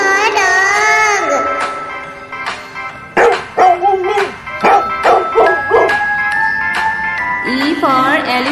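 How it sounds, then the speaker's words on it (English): A cartoon dog barks in a children's alphabet rhyme, giving a quick run of bright, yappy barks in the middle, surrounded by a sung, musical voice. "D for dog."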